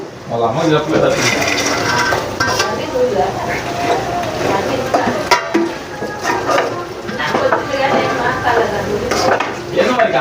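Chicken pieces go into ginger-garlic paste frying in a pan for chicken pickle, with a steady sizzle, scraping stirs and clinks of a spoon against the pot under continuous talking.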